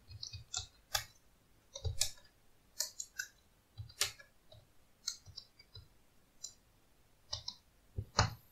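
Keys on a computer keyboard tapped in irregular bursts of clicks while text is entered at a Linux terminal, quiet and close, with no voice.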